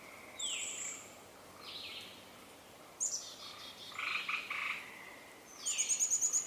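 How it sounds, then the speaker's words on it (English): Frogs croak outdoors in repeated bursts, some rapid and trilled, at moderate distance with a faint background hum and no talking. "And you're hearing frogs as well."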